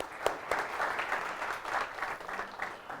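An audience applauds a participant at a professional workplace-attitude talk, a soft, steady wash of many hands clapping for about three seconds, somewhat distant and without voices.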